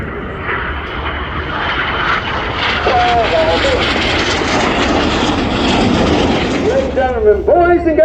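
Red Arrows aerobatic jets leaving the display area in inverted flight at the Royal International Air Tattoo, a loud sustained jet roar with shifting pitch as they pass, under a public-address announcer speaking throughout.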